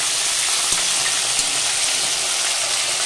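Fish fry in hot oil with a loud, steady, close sizzle and hiss that runs without a break, a few faint clinks beneath.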